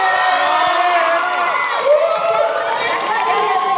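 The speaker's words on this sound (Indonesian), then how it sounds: "Tepuk tangan dulu boleh dari Universitas IKIP Siliwangi" A university audience from IKIP Siliwangi cheers and shouts loudly at a live event, a sustained crowd roar with voices rising and whooping, blended with clapping throughout.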